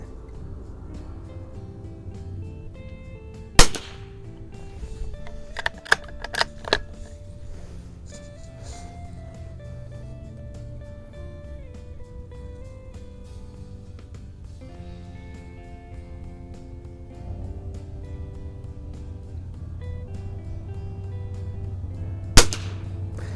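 A Sears Ranger bolt-action .22lr target rifle fires two sharp, loud cracks at 25 yards, nearly twenty seconds apart. Lighter metallic clicks of the bolt being worked fall between them, over a low outdoor hum.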